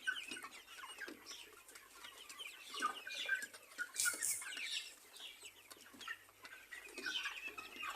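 Several chickens on a farm weighing scale cluck and call in irregular bursts, fairly near, with a brief sharp squawk partway through.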